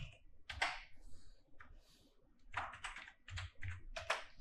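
Computer keyboard typing in short bursts of key clicks, pausing briefly in the middle, close and clear with no voices.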